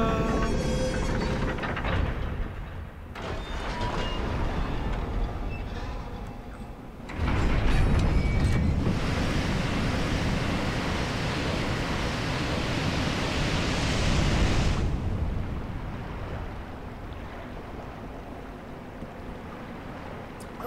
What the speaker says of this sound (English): There goes the water.